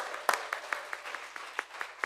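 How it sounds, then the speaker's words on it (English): Sparse, quiet applause from a small audience at a plain language awards ceremony, with a handful of separate claps spaced irregularly and heard from some distance. "Round of applause for these folks."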